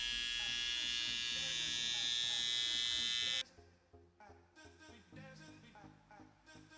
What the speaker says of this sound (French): je vais raser toute la zone où les cheveux sont clairsemés